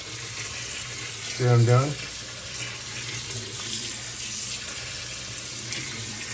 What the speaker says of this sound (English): let's pull it over here and it'll fill with water